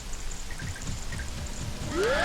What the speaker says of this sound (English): And now it's raining inside.